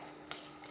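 Diced apple being stirred for a beet salad, quiet close scraping of a utensil with two brief, sharp clinks against the bowl.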